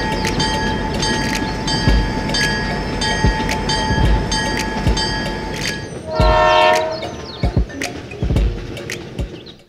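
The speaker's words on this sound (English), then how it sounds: "The train continues its journey." A toy train rolls along its track with a steady rattle, near and moderately loud, punctuated by sharp clicks and a brief clattering burst partway through.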